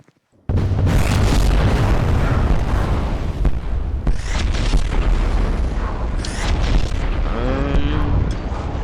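Fireworks go off in the video game Fireworks Mania: a sudden loud blast follows a brief quiet moment, then continuous booming, crackling explosions and rumbling bursts fill the scene, loud and dense.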